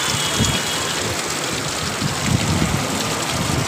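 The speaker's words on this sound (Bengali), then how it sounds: "জোরে বৃষ্টি হচ্ছে, দেখো বৃষ্টিতে কিছুই দেখা যাচ্ছে না।" Dense, loud rain pours down continuously, a heavy wash of hiss with scattered patters, no talking.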